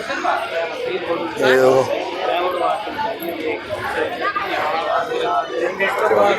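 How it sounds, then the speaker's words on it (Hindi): A crowd of visitors packs the inside of the Dargah Sharif shrine, with a constant babble of many overlapping voices close and distant and one louder voice briefly rising above the hubbub. "कितनी भीड़ है यहाँ पर दरगाह शरीफ के अंदर आस्थाने में"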